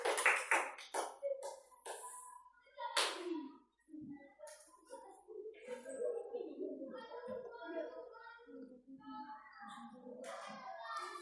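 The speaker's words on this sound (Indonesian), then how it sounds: "Kita beri tepuk tangan." Classroom of children and a teacher, with a burst of hand claps for a student group as people talk over it, then continued chatter and scattered taps in a small room.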